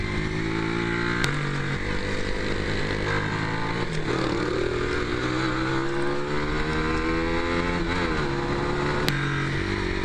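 Onboard engine roar of a motorcycle lapping a race circuit, loud and constant with rising and falling revs and occasional gear shifts, no voices audible.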